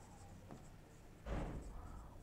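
Pen scratching across paper while someone works a school arithmetic-series math problem, quiet and close, with soft strokes that swell into a denser burst of scribbling partway through.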